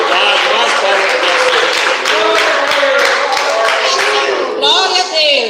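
Congregation in a church service applauds loudly and continuously, dense clapping filling the whole stretch with a brief dip near the end.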